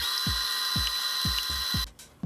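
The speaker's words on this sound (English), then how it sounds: "We'll whisk our eggs until they're frothy, and then add some cream of tartar and sugar to make a meringue." A whisk beats eggs with cream of tartar and sugar into meringue for a sponge cake roll, a steady high mixer whine with regular low thumps about every quarter second, then the motor cuts off near the end; no talk.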